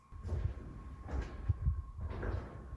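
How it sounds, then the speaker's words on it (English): Deep inside an underground mine tunnel in Arizona, a few muffled, hollow thuds like footsteps on wood recur at irregular intervals, soft and distant, echoing faintly over a dark hum. "he heard what he describes as footsteps on wood coming from deep within the tunnel"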